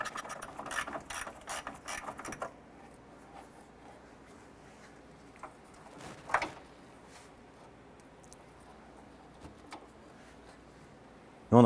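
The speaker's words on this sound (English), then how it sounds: "Going to use our 10mm socket and our 1/4 inch ratchet." Quarter-inch ratchet with a 10mm socket backing out a bolt during A/C condenser removal on a 2008-2012 Honda Accord: a quick run of clicking ratchet strokes at first, then sparse faint clicks and handling noises, no talk.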